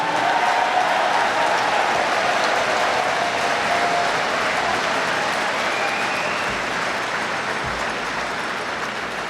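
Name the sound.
applause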